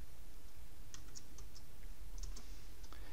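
Soft, close keyboard taps on a computer, a few scattered clicks in small clusters over a quiet, steady background hum.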